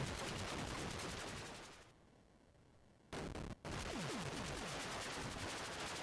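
Rapid bursts of shooting from an Atari 8-bit video game, a dense, steady stream of synthetic shots that fades out, drops to near silence for about a second, then resumes loud and continuous, with no talking.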